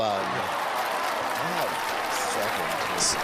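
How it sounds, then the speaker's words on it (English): One person gives a brief, light hand clap or two during a casual livestream chat, with voices talking over a steady room background. "I had to give a little clap for that."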